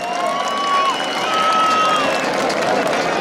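Crowd at a jaripeo bull riding event in Santiago Azajo, Morelos, cheering and applauding as a continuous wash of noise, with whistles and a voice over the loudspeaker rising above it.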